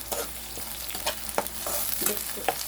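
Ginger-garlic paste fries in a pan for a small-fish dish, with a constant loud sizzle and rhythmic stirring scrapes close by.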